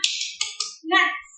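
A short burst of sharp claps, likely children in a primary classroom doing a spirited clap routine, with a few quick hits in rhythm followed by a brief voiced call.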